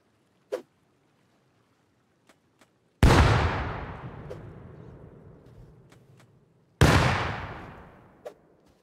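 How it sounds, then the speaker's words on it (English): Two loud grenade blasts go off during a base raid in the survival game Rust, each a sharp boom followed by a long decaying rumble several seconds apart, with a few faint clicks and taps in between. "I'm gonna try throwing nades."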